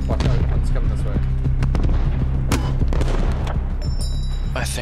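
Video game gunfire from enemies, scattered shots and bursts popping near and far in a steady battle din, with players talking over it.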